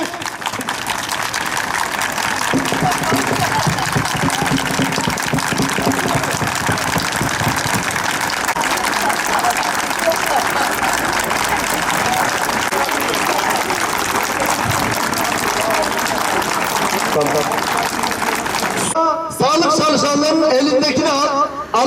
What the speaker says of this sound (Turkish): Üç dakika alkış.